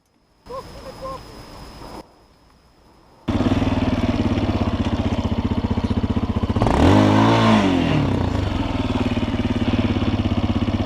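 A Chinese enduro motorcycle revs hard on a hill climb, starting with faint idling and a short gap, then a loud continuous engine roar with a rising and falling rev surge midway.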